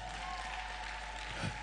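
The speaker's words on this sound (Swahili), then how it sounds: "kanisa, hebu mpigie Yesu makofi kwanza" Church congregation at a New Year service claps together, a brief, fairly faint wash of applause with a low hum underneath.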